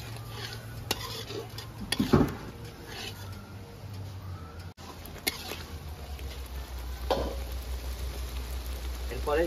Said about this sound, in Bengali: এরপরে ভালো করে মশলাটা মাখিয়ে নেবো।